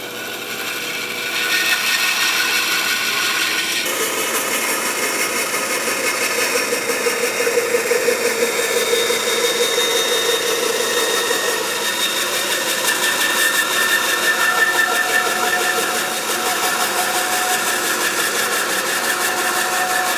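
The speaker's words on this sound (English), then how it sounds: "So let's go on over to the bandsaw and get that cut off." A bandsaw cuts through wood for a Gothic arch birdhouse, its motor spinning up and then holding a steady, loud whirring drone for the rest of the stretch, with no talking.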